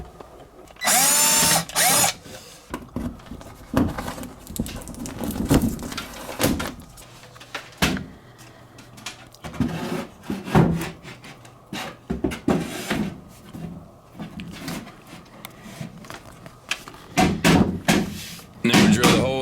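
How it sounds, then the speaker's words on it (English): A power drill bores a 1 7/8 inch hole into an IKEA Billy shelf in several loud bursts with pauses between, mixed with handling knocks and thumps. "So I'm just gonna drill a hole 1 7/8 inch in"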